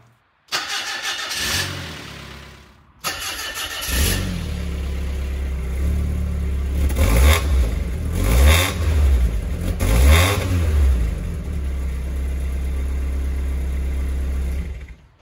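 A Mazda NA Miata cold-starts with a sharp crank and catch, then settles into a steady close idle broken by several quick throttle revs that rise and fall before returning to idle.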